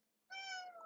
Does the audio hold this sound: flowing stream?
no